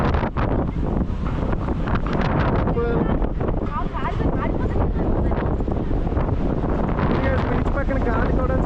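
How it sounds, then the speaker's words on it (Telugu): Strong wind beside a beach in Vizag, a continuous roaring rush buffeting the microphone, with a person talking over it. "బీచ్ పక్కన గాలి కూడా చాలా బాగా వస్తుంది"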